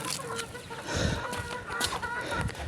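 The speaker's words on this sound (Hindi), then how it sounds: "तो ये है हमारा असील मुर्गा" An Aseel rooster gives short, soft clucks close by, a few brief calls over quiet rustling and handling noise.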